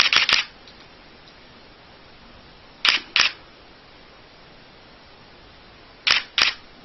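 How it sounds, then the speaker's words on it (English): Three short bursts of rapid DSLR shutter clicks fire at 1/8000 s while shooting 30 MB raw files onto a SanDisk 32GB Extreme Pro SD card, each burst a quick double clatter, separated by long quiet pauses as the 10-shot buffer clears. "So what you're hearing here is the 10-shot buffer that's built into the camera has been exhausted"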